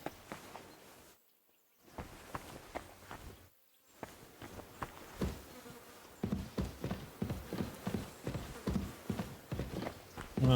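Horse hooves clip-clop in Kingdom Come: Deliverance II, a quiet run of soft footfalls that picks up into a steadier, slightly louder walking rhythm toward the end, alone without talk.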